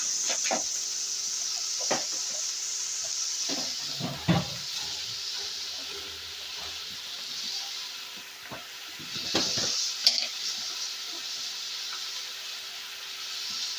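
Ginger, garlic, curry leaves, onion and tomato frying in a pan, a steady soft sizzle and hiss with occasional scrapes and knocks of stirring, close and otherwise quiet.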